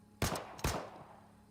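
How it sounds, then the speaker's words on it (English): Two sharp gunshots in a Goddess of Victory game scene, a fraction of a second apart, each a loud crack that rings out and fades into a low hum. "gunshots ring out"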